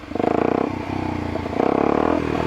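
A Kawasaki Ninja 250SL motorcycle accelerates close by, its loud, steady engine drone rising in pitch as it pulls away, then surging again after a brief dip.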